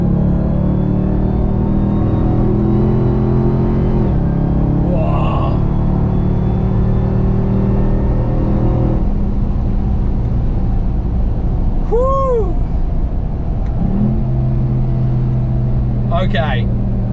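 The 702hp engine of a Dodge Ram TRX drones loud and steady from inside the cab on the Nürburgring Nordschleife, its pitch stepping through gear changes. A few brief tyre-squeal-like whines rise over it, and someone talks at times.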